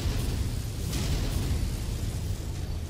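A mech's reactor explodes in the MechWarrior 5 video game, a sustained, loud, rumbling blast that fills the whole moment with dense low-end roar and no voices.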